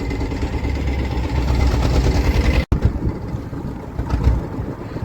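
A boat's engine idles in slow gear on open water, a loud steady low rumble mixed with heavy wind buffeting the microphone and sea noise, broken by a brief dropout midway.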